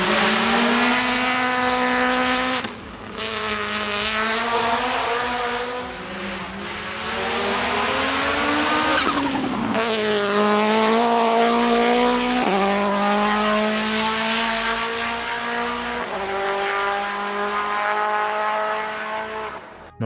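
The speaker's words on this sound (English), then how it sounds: "The result is a distinctive burble, a deep popcorning sound that enthusiasts have loved for decades." A car engine with a deep, burbling, popcorning exhaust note revs and shifts loudly and continuously, the pitch rising and falling through the gears with no talk over it.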